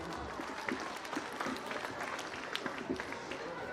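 A crowd at a school children's poetry recital claps continuously amid murmuring voices and scattered shouts, a dense busy wash of hand claps.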